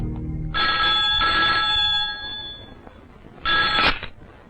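A telephone rings loudly and close, two long trilling bursts back to back, then a pause and a third shorter burst, with no talking over it.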